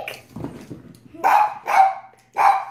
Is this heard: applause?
no